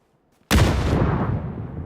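A single loud grenade blast in PUBG bursts out of near silence, a sharp boom with a long rumbling decay fading over more than a second.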